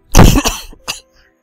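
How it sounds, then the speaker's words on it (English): A single person coughs up close, a loud harsh burst followed by a shorter second cough, then silence. "Sorry about the cough again"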